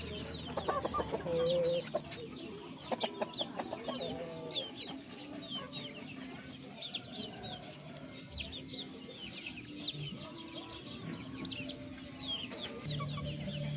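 Chickens cluck and chatter close by while being fed a protein-rich green plant on a farm, with repeated short clucks and sharp squawks over a busy background of other birds.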